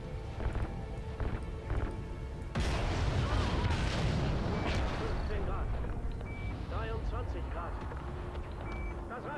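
Gunfire and explosive booms from the video game Call of Duty: Ghosts, loud and dense after a quieter opening, with sustained rumbling blasts and scattered shots over a busy battle mix, and voices speaking underneath.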